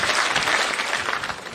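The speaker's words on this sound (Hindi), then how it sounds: "एक बार जोरदार तालियां" Loud, dense applause fills a hall at a state-level Hindi Day ceremony at a medical college, a continuous roar of many hands clapping at close range.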